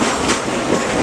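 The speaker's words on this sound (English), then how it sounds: "Ichabod, what are you doing stop the train on here in the middle of Snake Country" Train on the Frisco Silver Dollar line rumbling loudly and close, a continuous roar of wheels and carriages with faint clacking.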